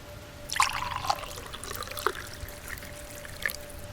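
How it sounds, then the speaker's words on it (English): Scotch trickles and splashes briefly into a glass, a short pour followed by a couple of faint drips in a quiet room. "I poured a large glass and took a swirl."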